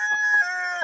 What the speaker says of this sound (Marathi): हा काय कोंबडा हाय का?